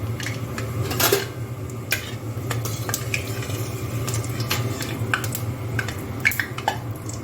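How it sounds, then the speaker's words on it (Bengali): Dried red chillies and cumin seeds tempering in hot oil in a hot kadai, with a steady low frying hiss under sharp clinks and scrapes of a spoon stirring against the pan. "তো তেল গরম হয়ে গেছে, আমি এখানে শুকনো লঙ্কা আর সাদা জিরে ফোড়ন দিয়ে দিলাম।"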